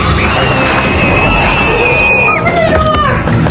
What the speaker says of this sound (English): Countless screams.